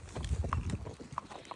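Horses' hooves clip-clopping at a walk during a group trail ride in New Jersey, a steady uneven patter of hoofbeats with a few sharp higher knocks, moderately close.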